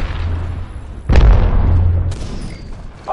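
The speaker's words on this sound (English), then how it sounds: "Look out, grenade!" An arc star grenade in Apex Legends goes off close by with a sudden deep boom, and a crackling electric tail fades over the following second.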